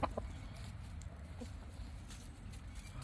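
Chickens spread around a pen give faint, scattered clucks over a low, steady outdoor rumble, with no one speaking.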